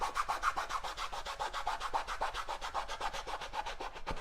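Rubbing down tape on a joint of a SIG Super Chipmunk model airplane build, quick repeated back-and-forth scrubbing strokes with an even rhythm, close and alone.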